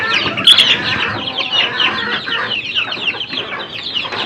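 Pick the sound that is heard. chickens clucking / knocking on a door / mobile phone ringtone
chickens clucking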